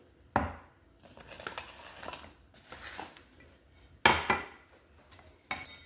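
Sourdough bread dough being mixed in a bowl: close, irregular clanks and scrapes of a utensil against the dish, with a few sharper knocks and soft sticky rustling between them, no talk.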